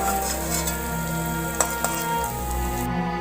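Baby corn frying in hot oil, a dense continuous sizzle close up with a couple of brief clinks from a utensil, fairly loud, no talking.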